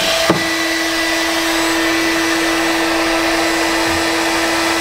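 A 1,875-watt hair dryer runs on high in an RV powered by solar and lithium batteries, a loud steady whooshing whine with a fixed tone, starting with a brief click and continuing alone.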